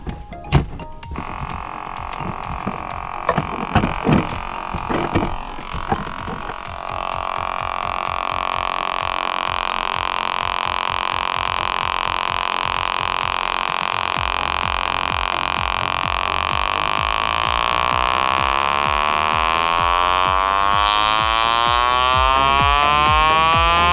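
A Vitafon vibroacoustic therapy device runs with a steady high electronic hum and buzz that holds for a long stretch and rises in tone toward the end, preceded by a few handling clicks.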